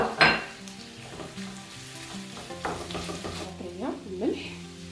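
Kefta ground meat fries in a pan with a steady sizzle, interrupted by a few close scraping and stirring strokes against the pan.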